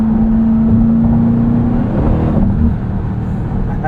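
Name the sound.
Dodge Durango SRT Hellcat engine revving while accelerating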